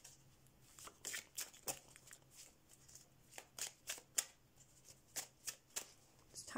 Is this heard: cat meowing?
no